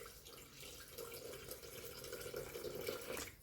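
Water is poured into a Thermomix 7 bowl while making a chicken and mushroom risotto. It is a steady, close splashing stream that runs for about three seconds with no pauses.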